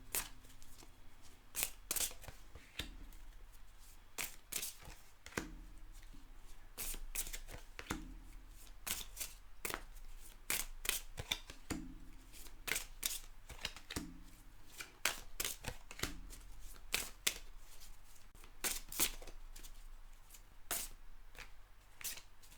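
Tarot cards are shuffled and cut by hand in a series of crisp, close, rapid riffles and slaps that repeat in bursts through a quiet room, with almost no voice.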